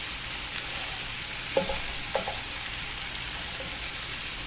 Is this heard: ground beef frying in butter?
yes